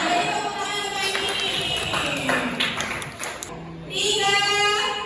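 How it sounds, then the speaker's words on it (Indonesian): Children applauding in a classroom, a dense, fairly loud wash of clapping that dips briefly and then swells again near the end. "Beri tepuk tangan lagi."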